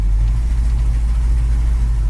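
A 1964 Mercury Park Lane Breezeway's engine runs steadily as the car backs up, a deep, continuous low rumble held at an even level throughout with no speech over it.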